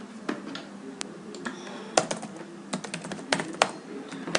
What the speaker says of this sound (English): now go to switch 1 and type